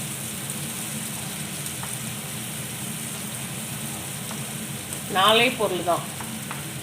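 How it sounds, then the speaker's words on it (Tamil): A paste of garlic and Kashmiri chili sautés in ghee with a soft, continuous sizzle and crackle. A brief spoken voice cuts in near the end. "இதை இந்த நெய்லேயே நல்லா ரோஸ்ட் பண்ணணும்."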